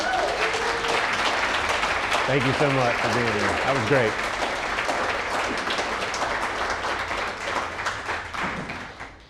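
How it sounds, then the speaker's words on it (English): An audience at the Songbirds Radio Hour gives Dr. Scott a full round of applause after a Q&A, dense and steady before it gradually thins, while someone speaks over the clapping. "Let's give the lovely Dr. Scott another round of applause."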